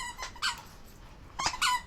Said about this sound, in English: my dogs are deciding to play with all their squeaky toys right near me, so you may hear that